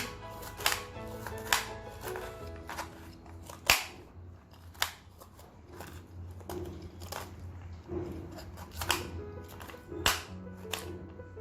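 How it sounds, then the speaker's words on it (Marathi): A knife chopping cauliflower on a board, sharp irregular cuts spaced about a second apart, close and fairly quiet, alone with no talking. "फ्लावर चिरून घेऊ"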